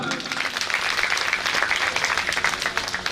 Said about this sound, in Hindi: आपके लिए भी जोरदार ताली।